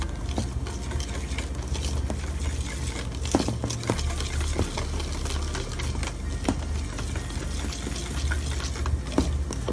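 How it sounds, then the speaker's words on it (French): Spoon working through chocolate cake batter of egg, flour, sugar and melted chocolate, a steady close scraping and stirring with soft repeated clicks, continuous and alone without any voices. "Je mélange bien."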